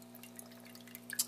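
Faint water drips fall from an aquaponic grow bed into a fish tank, a few soft, quiet drops over a low steady hum, with the clearest drip near the end.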